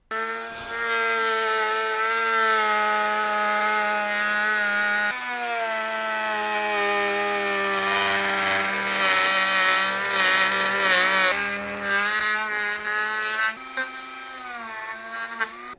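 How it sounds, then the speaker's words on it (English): Cutting the rear bumper of a Corvette C7 ZR1 for a high-wing spoiler install, a loud, continuous whining power tool with steady tonal pitch that shifts slightly as it bites into the material. "I think it's time to start cutting."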